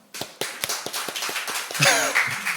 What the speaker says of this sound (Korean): 우리 격려의 박수를 한번 할까요?